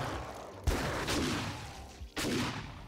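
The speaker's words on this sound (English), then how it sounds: "You fucking shot me twice." Two sharp gunshots ring out in a zombie horde survival video game, loud and close, spaced about one and a half seconds apart over quiet background noise.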